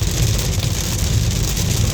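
Rain drums steadily on a car's exterior while the vehicle's low road rumble continues underneath, dense and constant from inside, on a highway road trip in India.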